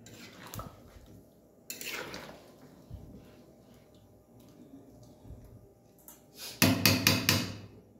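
A lid is set onto a cooking pot of chicken with water added for boiling, giving a short cluster of sharp metallic clanks and rattles near the end, preceded by fainter kitchen clatter.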